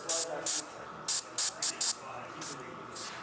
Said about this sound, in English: even with this Patriot 105, even though it's a general purpose airbrush, it does spray fairly fine little dots of paint